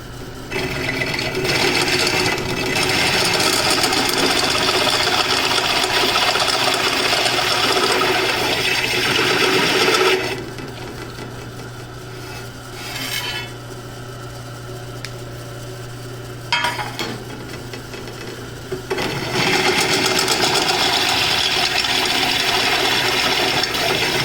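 A step drill enlarging and chamfering a hole in metal while fabricating vise mounts for a CNC machine, giving a loud continuous grinding whir in long runs that stop and restart, with quieter gaps between bursts.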